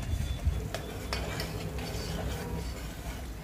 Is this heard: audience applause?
no